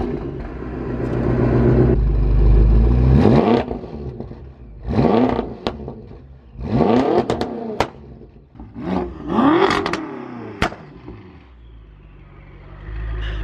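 A tuned 720 HP BMW M5 with four exhausts starts and revs, a deep engine cranking then rising and falling in several loud, close revs with sharp pops between them, settling to a rumbling idle.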